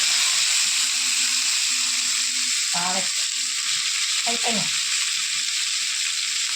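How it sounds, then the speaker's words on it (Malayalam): Mustard seeds popping and frying in a hot pan make a steady, loud sizzle with fine crackling throughout, while a voice speaks briefly twice in the middle. "കടുക് പൊട്ടിയോ?"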